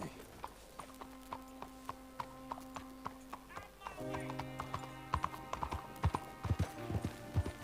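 Horse hooves clip-clop at a steady walking pace in Red Dead Redemption 2, clear and close, with a brief whinny and a voice talking over the later steps.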